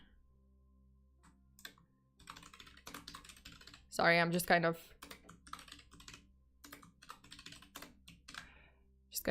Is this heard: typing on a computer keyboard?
yes